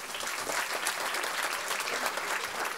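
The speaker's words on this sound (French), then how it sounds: "On peut les applaudir bien fort." A comedy night audience applauds with dense, continuous clapping, moderately distant and even in level, with no voices standing out.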